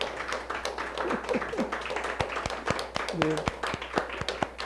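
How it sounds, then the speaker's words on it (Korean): A church congregation claps in applause, a run of sharp overlapping claps under a speaking voice, fairly close and moderately loud. "박수로 그냥 응원하는"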